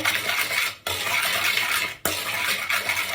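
Ingredients stirred with a teaspoon of sugar in a bowl, a steady clinking and scraping of a utensil against the bowl with two brief pauses.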